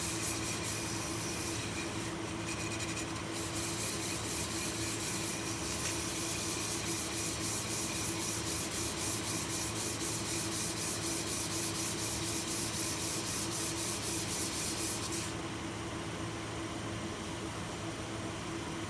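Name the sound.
sanding with 320 grit sandpaper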